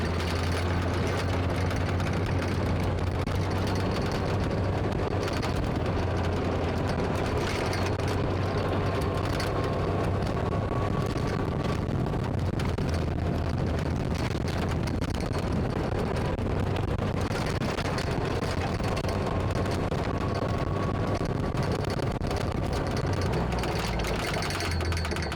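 A vehicle rumbles steadily down a shooting range toward a 755-yard AR500 steel deer target, its engine drone and road noise loud and constant with wind buffeting a mounted camera, no talking.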